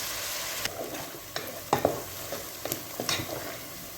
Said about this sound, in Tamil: வெங்காயமாக நல்லா வதங்கிடுச்சு.